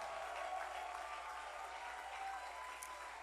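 A church congregation applauds steadily, a dense, even wash of clapping that carries on without a break, heard from some distance and fairly faint.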